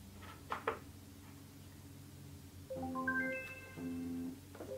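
A phone set off by a Wyze Watch find-your-phone feature plays a rising, melodic ringtone of bright stepped tones, coming from slightly off to the side. Two short clicks sound before it starts.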